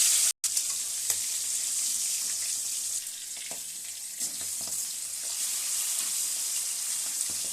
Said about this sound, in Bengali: পাবদা মাছ ভাজা হয়েছে এখন বোয়াল মাছ দিচ্ছি